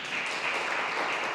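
A church congregation claps together during a worship service, a dense steady burst of applause lasting just over a second.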